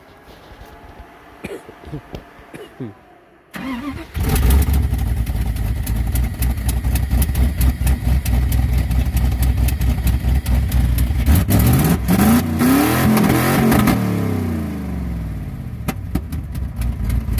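A 1969 Buick Skylark GS engine cranks and catches after a quiet stretch, then revs hard and steadily with rising and falling pitch, loud and close, settling back toward a rough idle near the end.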